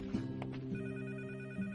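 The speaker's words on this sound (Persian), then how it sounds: "تلفن رو بردار." A telephone bell rings indoors with a steady tonal trill and a few clicky accents. It is heard alone at moderate level with no voices.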